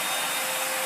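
A vacuum cleaner runs steadily at close range, a dense constant roar without any pauses or voices over it.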